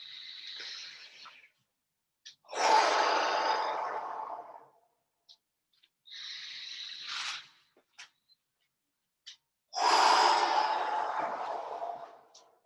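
Breathing during a movement exercise comes through as loud, close, alternating inhales and exhales. Long rushing breaths are followed by pauses and small sounds of movement.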